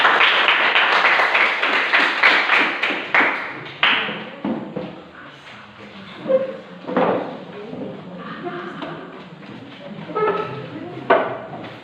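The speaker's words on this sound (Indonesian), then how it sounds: "mari kita beri tepuk tangan dulu." A burst of clapping from a class group after a group discussion, loud at first and tapering off into scattered claps and murmuring voices.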